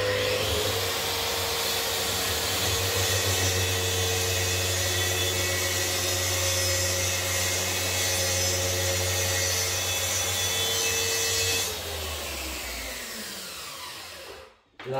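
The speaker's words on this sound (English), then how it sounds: "I've got the saw set up to an 18mm cut." A circular saw set to an 18mm depth cuts a workpiece screwed to a workbench, with a dust extractor hose attached; a steady loud whine runs for about twelve seconds, then drops off and winds down.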